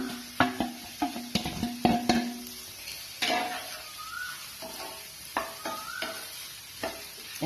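Okra rubbed with salt, chilli and garam masala sizzles in a pan as it is stirred, with repeated scraping and clattering of the spatula over a steady frying hiss.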